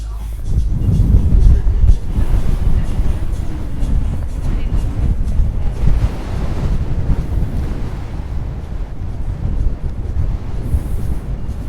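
Strong wind blows along the seaside at El Cotillo, roaring and buffeting the microphone in a loud, steady rush with surf-like swells and no voices.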